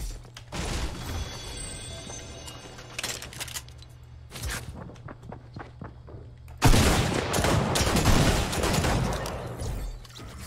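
Six shooter revolver fire in Fortnite, rapid bursts of sharp cracking shots in clusters with pauses between, ending in a louder, denser barrage of gunfire.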